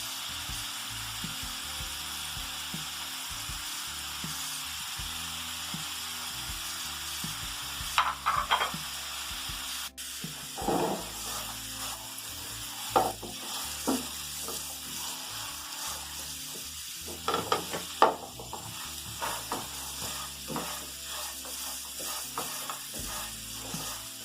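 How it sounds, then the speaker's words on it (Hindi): Potatoes fry in a pan for several minutes, a steady low sizzle running throughout with scattered scraping and clattering stirs, a few louder knocks near the middle and end. "6-7 मिनट हो चुके हैं आलूओं को फ्राई होते हुए।"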